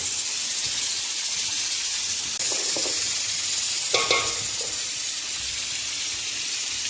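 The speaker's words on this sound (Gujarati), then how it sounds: "હમ ઘી ગરમ થાય છે મિત્રો" Ghee heating in a pot in a village kitchen, giving a steady close sizzle and hiss with a few brief crackles and stirring scrapes partway through.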